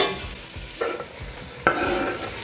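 A spoon stirs onion and sausage frying in a pot, two scraping stirs over a steady, close sizzle.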